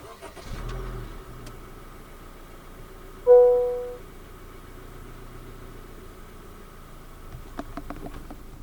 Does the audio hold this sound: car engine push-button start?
yes